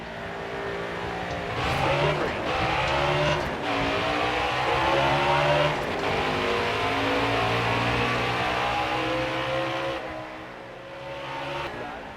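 Race cars at Richmond in the NASCAR Heat 4 video game roar steadily as the field goes green, a dense, continuous engine drone with shifting pitch and a few brief surges, no talk over it.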